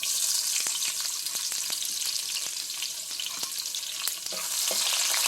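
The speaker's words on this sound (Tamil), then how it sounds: "பூண்டை போடுறேன் நல்லா வதங்குது பாருங்க" Garlic frying in a pan for brinjal and peanut kara kuzhambu, a loud continuous hissing sizzle with scattered crackles and occasional stirring clicks.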